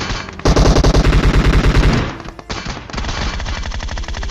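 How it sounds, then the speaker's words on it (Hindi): Automatic gunfire in PUBG Mobile rattles out in a loud, rapid burst, breaks off briefly, then resumes as a steady sustained stream of shots close by. "अगेन हम पे फायरिंग होनी स्टार्ट हो जाती है"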